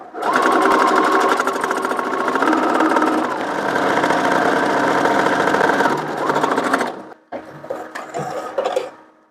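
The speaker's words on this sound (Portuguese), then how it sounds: "agora eu vou passar a segunda costura do lado dessa" A sewing machine runs a second seam along a child's dress ruffle, a steady fast mechanical whir for about seven seconds, then stops, followed by a few short softer bursts and clicks.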